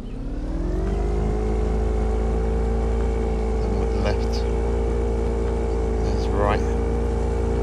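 A motorboat engine in the video game Fishing Planet drones steadily at full speed, a continuous loud hum with rising pitch at the start, with a person talking over it.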